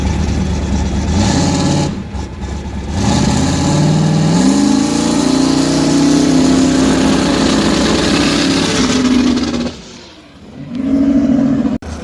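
A boosted Ford Mustang engine runs during a test launch, a loud close droning rev that rises and holds unevenly, dips briefly near the end, then returns.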